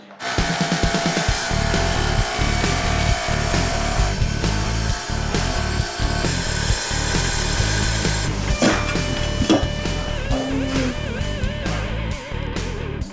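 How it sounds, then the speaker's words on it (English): A power saw blade cuts through polished porcelain tile with a steady, continuous grinding whine and repeated low chattering bursts, loud and close, with no voices. "It'll reduce the chipping as the blade's going through the porcelain."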